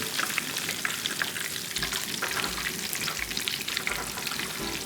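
Rattlesnake bites, small cheesy breaded bites, fry in oil in a pan with a steady, dense sizzle and crackle throughout, fairly close and with no talking.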